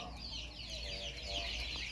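A short hen leading her chicks clucks in a rural yard, repeated soft clucks over background noise, with people talking nearby.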